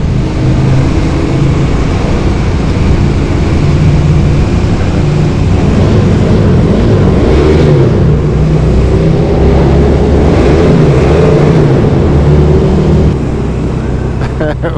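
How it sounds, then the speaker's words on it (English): KTM motorbike exhaust echoing inside a road tunnel under the River Mersey: a loud, steady engine roar with a continuous rumbling drone that fills the space throughout, reverberant and unbroken. "And I might even have a little listen to the exhaust."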